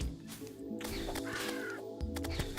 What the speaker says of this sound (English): The bird noises.